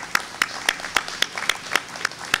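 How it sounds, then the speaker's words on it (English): Brief applause for volunteer firemen and rescue members at a 9/11 memorial gathering, a few sharp, evenly spaced claps standing out over lighter scattered clapping. "Let's get a big round of applause for them."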